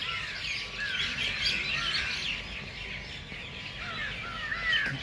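A dense, continuous chorus of many small birds chirping and twittering at night in Pinjore Garden, steady and fairly loud with no talking over it.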